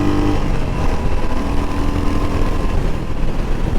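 Royal Enfield Hunter 350 motorcycle engine: a steady, close, loud single-cylinder rumble that runs unbroken for the whole four seconds with no speech over it.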